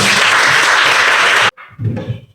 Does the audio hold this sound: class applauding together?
yes